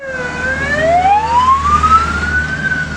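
A wailing emergency vehicle siren sweeps up and down in pitch, fairly loud and continuous over road rumble, at a roadside car fire on the Çaybaşı–Ünye highway.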